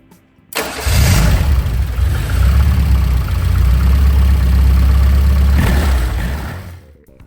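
A 1988 Bertone Fiat X1/9, just refilled with oil after a sump gasket replacement, starts up and runs at a steady, loud idle for several seconds before the engine is shut off.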